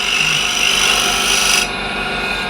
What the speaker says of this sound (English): if I tilt it up on the side, now I'm shear scraping